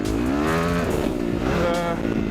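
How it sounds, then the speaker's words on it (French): A Kawasaki KXF 250 dirt bike engine buzzes and revs steadily nearby, its pitch rising and falling as the motorcycle rides around. "vous voyez ma Dirt qui est en train de tourner"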